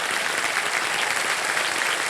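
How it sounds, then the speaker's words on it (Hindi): A studio audience on a television quiz show applauds, a dense, steady wash of many hands clapping at once, loud and even throughout with no one speaking over it. "और तालियां बज जाएं श्रद्धा जी के लिए।"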